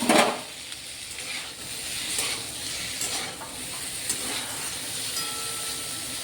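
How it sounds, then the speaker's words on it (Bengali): Paneer cubes fry in a little hot ghee in a pan, giving a steady, soft sizzle throughout with a slightly louder burst at the start. "এটা হালকা একটু ভেজে নেব"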